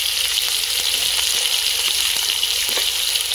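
Garlic and curry leaves fry in a pan of hot oil over a village cooking fire, giving a steady, loud, dense sizzle with faint crackles and light stirring throughout.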